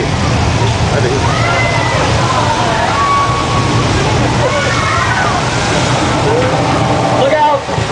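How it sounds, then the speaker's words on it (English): Water rushes down a hill in a staged flash flood, a loud, constant sloshing roar close by, with excited voices talking and shouting over it. "Look out, it's a flash flood. Coming down the hill."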